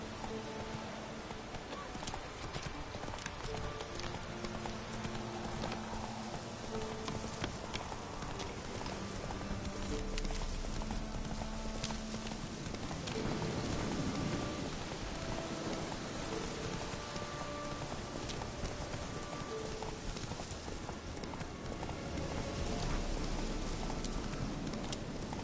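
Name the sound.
horse Roach hooves clip-clopping in rain, from video game The Witcher 3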